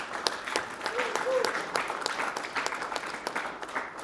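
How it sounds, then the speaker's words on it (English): Conference audience at the OpenSIPS Summit in Bucharest claps for a speaker, a moderate burst of scattered hand claps with uneven rhythm, mixed with some voices and room murmur. "let's give this man a round of applause"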